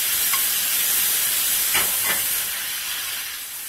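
One pound of ground beef sizzles in a pan with olive oil, a loud, even frying hiss close up with a couple of faint stirring scrapes.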